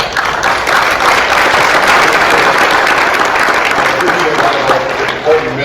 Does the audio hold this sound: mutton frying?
no